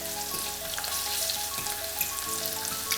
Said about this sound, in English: whilst that's frying up